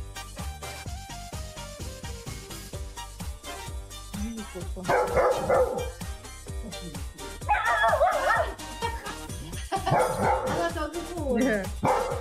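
A puppy barks and yips in short, repeated bursts among other animal sounds, with music or other background audio running throughout.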